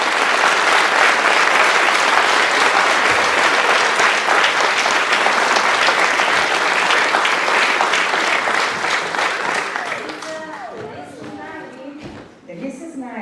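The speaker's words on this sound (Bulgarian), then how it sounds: "Вашите аплодисменти за директора на детска градина Българче" A large audience at a kindergarten's 75th anniversary concert applauds loudly and densely for about ten seconds, then the clapping fades out and a person begins speaking.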